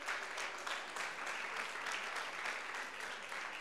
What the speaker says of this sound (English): Clap yourselves for being amazing.